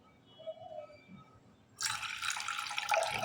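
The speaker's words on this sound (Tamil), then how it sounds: "ஒரு கப் பாலுக்கு ஒரு கப் தண்ணி" Water pours steadily into a pot of milk on a kitchen stove, a sudden rushing splash that starts partway through and continues to the end, close and fairly loud after a quiet start.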